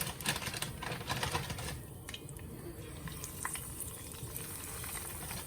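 Oil bubbles and sizzles vigorously as chicken fries deep fry, a dense crackling hiss with scattered pops, close and continuous.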